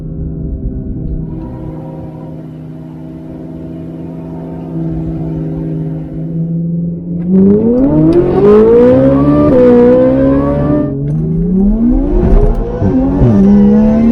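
An 840-horsepower Demon-engined Jeep Wrangler idles with a deep rumble, then revs and accelerates hard in a drag race, the engine climbing loudly through rising gear pulls, close and dominant.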